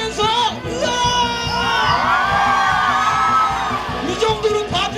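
A concert audience at an intimate fireside concert yelling and whooping together in a loud, sustained burst of many voices, close and filling the room.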